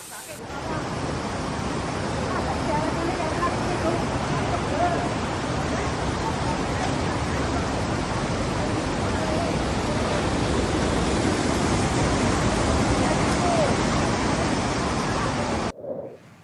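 Floodwater in Pandeglang, swollen by an overflowing river, rushes in a loud, continuous broadband roar that holds steady for about fifteen seconds before cutting off abruptly.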